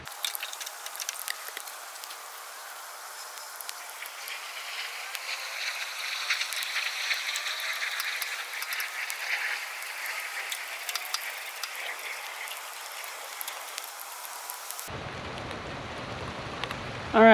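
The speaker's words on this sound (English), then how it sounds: "the rain's really coming down" Rain patters steadily on an outdoor work area during a Ford 9N tractor governor repair, a dense wash of drops and ticks lasting about fifteen seconds before cutting to a quieter, muffled tail.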